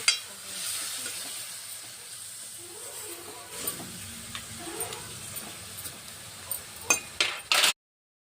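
Tamarind juice poured into a simmering Telangana-style fish curry sets off a steady sizzle and hiss of steam, with faint stirring clinks and a few sharper clatters toward the end before the sound cuts off.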